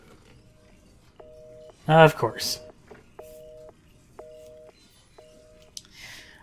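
Telephone keypad dial tones in Resident Evil 7, a row of five evenly spaced steady two-note beeps, with a burst of speech and noise in the middle.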